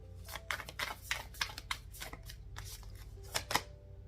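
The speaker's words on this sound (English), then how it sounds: "Let me shuffle." A deck of cards being shuffled, with quick riffling bursts and flicks repeating in an uneven rhythm, close up and moderately quiet.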